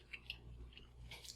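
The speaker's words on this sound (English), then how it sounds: "I'm going to go ahead and take a bite and make sure that these turned out good." Faint, close crunches of biting into a crisp grain-free sweet potato hush puppy with bacon, two quick crisp bites followed by soft chewing and another crunchy burst.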